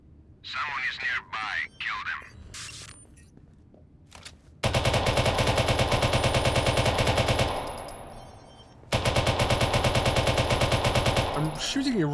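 Automatic gunfire in Watch Dogs 2, two long loud rapid bursts of machine-gun fire close by, separated by a brief pause, after a few seconds of speech at the start.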